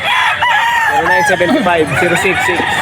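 A Banderado Sweater gamecock rooster at the Bocaue pet market gives a loud, close, drawn-out crow with wavering pitch, over market chatter and other fowl.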